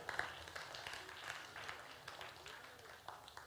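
A middle-school church youth group claps for students after their exams, a diffuse, moderately faint patter of hands from a small indoor gathering.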